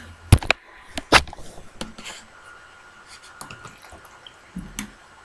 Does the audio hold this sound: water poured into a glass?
yes